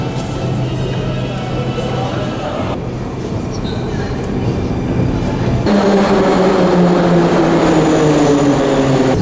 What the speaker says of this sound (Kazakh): вагондар да сондай кеңес одағынан қалған ескі вагондар, бірақ барлығы да істеп тұр.